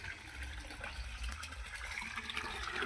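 Water runs steadily into a cattle trough at a dairy farm, a faint continuous splashing and gurgle heard alone.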